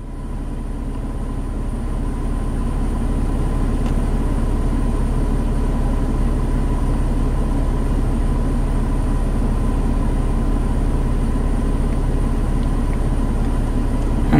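Mercedes-Benz V6 engine idling, a steady low rumble with an even drone that holds constant and fairly loud throughout, with no voices over it.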